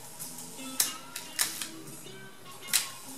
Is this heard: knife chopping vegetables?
no